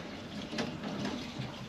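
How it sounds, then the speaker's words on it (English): Water splashes and spills from an open jar knocked over on a workbench in a garage, a short close wash of liquid with a brief peak, alone without talk. "that was just the open jar of water that I keep on the workbench"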